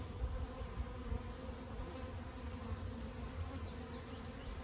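Bees buzz steadily around an opened beehive during a hive inspection, a dense continuous drone close by with a few individual insects zipping past, no talking.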